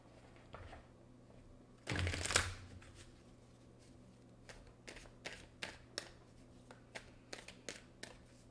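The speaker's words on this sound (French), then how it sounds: "Je vais aller chercher des messages avec mes cartes." Tarot cards being shuffled nearby, opening with a loud rushing riffle and then a string of quieter, evenly spaced flicks and taps, with no speech.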